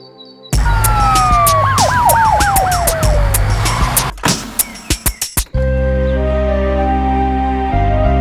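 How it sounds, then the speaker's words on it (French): An ambulance siren wails loud and close, its rising and falling tones sweeping repeatedly, followed by a burst of sharp clatters and then a low steady hum. "Je vais appeler l'ambulance pour qu'elle l'amène à l'hôpital."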